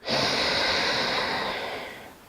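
A single long, breathy ujjayi exhale through the nose, steady and close with a soft hiss, slowly tapering off over about two seconds.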